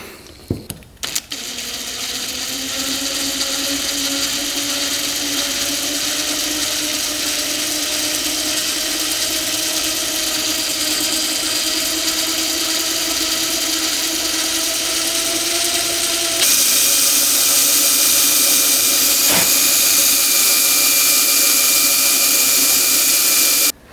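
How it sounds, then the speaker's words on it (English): A power drill whines steadily and close for about twenty seconds, drilling out a corroded screw on a dirt bike, its pitch rising slightly, then shifting to a harsher, louder tone near the end. "because that little screw got corroded off in there, we're gonna have to drill that out"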